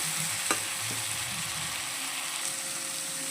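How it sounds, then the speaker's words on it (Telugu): Ginger-garlic paste frying in a pan for a brinjal dum biryani, a continuous close sizzle with a few soft stirring scrapes and one light knock. "అల్లం వెల్లిపాయ పేస్ట్ కూడా ఇందులో వేసేసుకోవాలి పచ్చి వాసన పోయేంత వరకు మంచిగా ఫ్రై చేసుకున్నాము"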